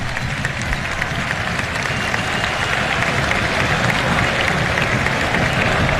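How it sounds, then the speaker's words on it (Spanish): Stadium crowd at a Paraguayan league match between Sportivo Ameliano and Olimpia applauding substituted player Rubén Lescano, a steady dense wash of clapping and crowd noise that holds loud and even throughout. "Seguro van a haber aplausos para Lescano cuando se acerque hasta esta zona."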